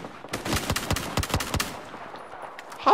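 Gunfire in the video game Battlefield 4, a rapid burst of close automatic shots over about a second and a half that ends abruptly, followed by a brief faint tail.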